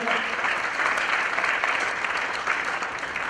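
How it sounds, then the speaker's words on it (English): Audience applause fills the room at a high school National Honor Society induction ceremony, steady and close, a continuous round of clapping with no talk over it. "So let's give a round of applause for Ms. Kim Mueller for coming this evening"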